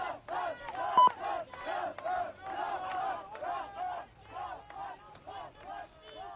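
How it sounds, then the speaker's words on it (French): A crowd outside a courthouse roars in repeated rhythmic chanting bursts, sustained and energetic, with a distant, somewhat thin quality. "ovation de la foule"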